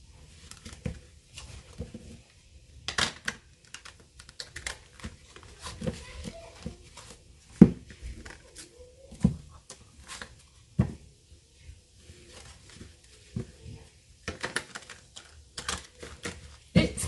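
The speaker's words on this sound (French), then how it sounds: "Alors, je brasse d'abord un peu les cartes." Tarot cards shuffle by hand in a series of sharp, irregular riffling bursts and soft slaps, close up, with quiet spoken voice between them.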